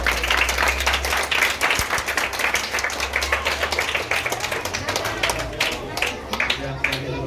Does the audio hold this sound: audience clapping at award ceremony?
yes